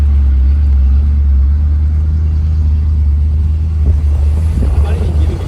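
A 1976 Chevrolet Nova's engine runs rough with a loud, steady low rumble inside the car, swelling slightly near the end, while someone talks over it.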